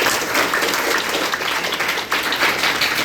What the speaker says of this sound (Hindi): पहले इन तीनों के लिए ताली बजाइए भाई